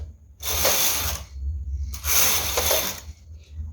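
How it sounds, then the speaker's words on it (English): A domestic knitting machine knits two rows of leaf lace pattern. Two long rasping carriage passes sweep across the needle bed one after the other, each lasting about a second, loud and close, with no talk. "use my needle pusher to push them to align together and knit 2 rows"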